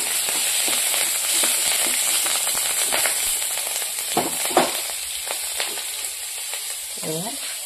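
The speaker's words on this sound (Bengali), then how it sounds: "এবার দিয়ে দিব আদরক, এখানে চিড়ে রাখা কাঁচা লঙ্কা দিয়ে দিলাম।" Ginger and slit green chilies frying in a nigella seed tempering in a wok, giving a steady, close sizzle and crackle with a few scattered pops and a short voice near the end.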